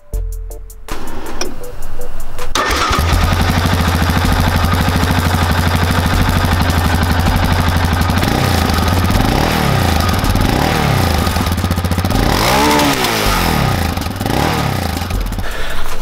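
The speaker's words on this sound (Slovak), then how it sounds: "Takže ako ste mohli vidieť, to bol zvuk s DB Killerom." A Yamaha Raptor 700R quad idles and revs with its dB killer fitted in the exhaust, a loud close steady single-cylinder drone with several rising and falling throttle blips.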